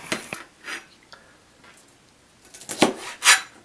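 Brussels sprouts are shredded by hand for a healthy spring salad, producing a few short, crisp slicing and scraping strokes separated by quiet pauses, the last two louder and closer, with no talking.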